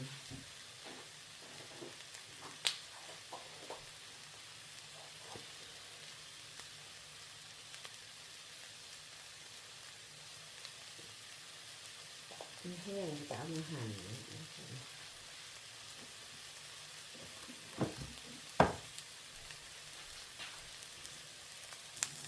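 Salted beef sizzles on a grill for a Thai nam tok salad: a soft, steady hiss runs throughout, with a few sharp crackles and pops and a brief stretch of talk partway through.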